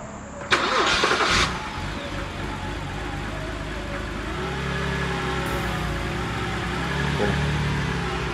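A BMW 330xi with a replaced engine cranks briefly, then catches and settles into a steady idle, with a low mid-pitched hum that swells slightly later on. The sound is close and moderately loud.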